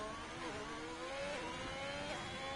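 An Alfa Romeo race car engine in a racing video game climbs steadily in pitch as it accelerates, a continuous close whine with small shifts in tone, and no one speaks.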